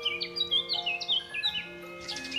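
Blackbirds from a children's story give strange cries: a series of short, squawking and whistling calls in quick succession, fairly close, over a faint steady background.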